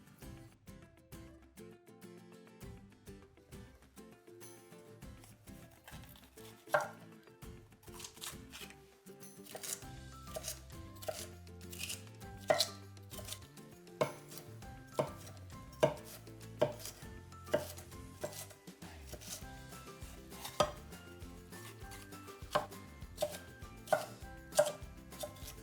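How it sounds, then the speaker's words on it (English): A knife dices onions, garlic and peppers on a cutting board, with crisp, close chops arriving in quick, irregular runs over soft background music. "We'll start this one off by dicing our onions, garlic and peppers."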